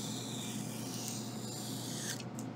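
A tool bevels the edge of a 3D needlepoint piece with a steady, close rasping rub that lasts the whole time, a scratchy continuous texture with no talk.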